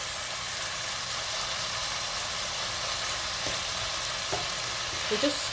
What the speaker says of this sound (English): I just want to cook the ginger until it's nicely fragrant, the ginger and the garlic